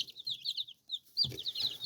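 Several new young chickens cluck and cheep softly nearby in a pen, quick high chirpy calls in short clusters, with brief scuffling and a low rustle after a short pause.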